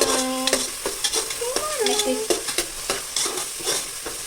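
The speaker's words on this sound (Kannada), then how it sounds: "ಓಕೆ, ಇವಾಗ ಇದನ್ನು ಚೆನ್ನಾಗಿ ಫ್ರೈ ಮಾಡೋಣ." Chopped onions and small tomatoes fry for a country-style chicken biryani, with a steady sizzle under repeated sharp stirring scrapes and clanks of a spoon against the pan, close and alone without talk.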